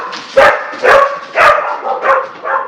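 A run of five or six loud barks from several hounds in quick succession, close by, some high and yippy, tapering slightly toward the end.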